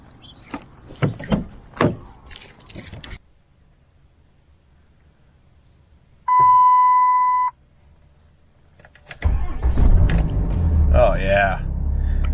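Someone gets into a Dodge pickup truck with 222,000 miles on it: keys jangle and a door thuds, then a steady electronic chime sounds, followed by the engine cranking and catching into a loud close idle.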